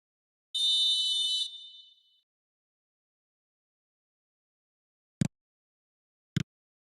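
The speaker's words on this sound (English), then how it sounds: "Whistle's gone, that's a foul." A referee's whistle in a football video game blows one sustained shrill blast, loud and alone, followed after a pause by two sharp thuds.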